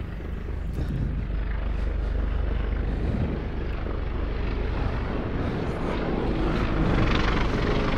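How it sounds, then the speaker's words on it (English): A military helicopter passes overhead with a continuous rotor and engine rumble that stays fairly loud throughout, with no voices. "That's a military helicopter."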